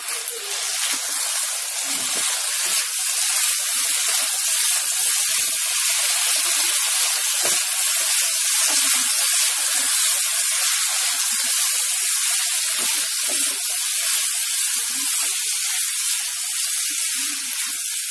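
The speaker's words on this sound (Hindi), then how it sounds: "मीडियम फ्लेम पर इसे लगातार चलाते हुए हम 2 मिनट तक भूनेंगे ताकि जो आलू है हमारे पूरी तरह से पक जाएं" Potatoes with chili flakes, stirred constantly in a pan over a medium gas flame, give a loud, steady sizzling hiss that runs unbroken throughout, with soft scraping bumps underneath.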